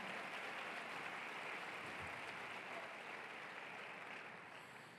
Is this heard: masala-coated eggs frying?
no